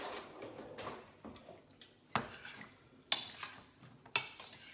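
Tandoori chicken marinade with salt stirred by hand in a bowl, a close series of soft scraping swishes broken by a few sharp spoon or utensil knocks against the dish, quiet and alone.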